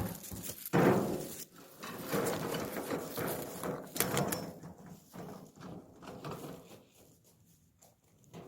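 An empty wheelbarrow is pushed outdoors at a mountain home, rattling and clanking in irregular bursts that fade toward the end; fairly faint, with no talking.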